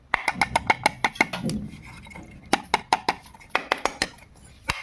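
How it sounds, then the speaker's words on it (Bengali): A dusty air filter from a Bajaj two-stroke auto rickshaw is knocked against a hard surface to shake out dirt, giving sharp, close taps in quick irregular bursts with brief pauses and no talking. "ফ্রেশভাবে ঠুকে ঠাকে নিলে একটু ধুলো ফুলো যেগুলো থাকে পড়ে যাবে"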